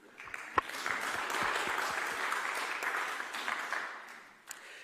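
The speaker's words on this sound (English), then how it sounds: "So I think we as a faculty have to applaud for you." Faculty and participants applaud together at a farewell and evaluation session in Leuven, a full round of clapping that swells quickly, holds for several seconds and then tapers off, with a few louder individual claps near the start.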